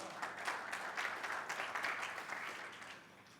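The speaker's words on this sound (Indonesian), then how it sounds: "Beri tepuk tangan pada ayat ini." Church congregation clapping together during a Sunday service, a dense, steady patter of many hands that stays fairly faint and distant for a few seconds before slowly tapering off.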